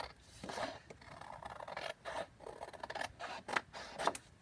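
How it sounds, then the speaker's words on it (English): Scissors cut the white edge off a sheet of paper for a lace-house junk journal booklet. Several quiet, close snips and crisp paper slices repeat in an uneven rhythm, with nothing else audible. "So I am just using my scissors."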